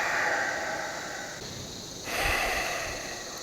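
A deep, audible exhale during yoga breathing practice in a back-pain session, steady airy breath near the microphone that swells again toward the end, with no talking.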